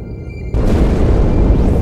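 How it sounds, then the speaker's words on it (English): A sudden deep explosion from inside a ship in the Halo 2 video game, a loud boom cutting in after a brief quiet hum and rumbling on as a sustained roar. "That explosion came from inside the Athens."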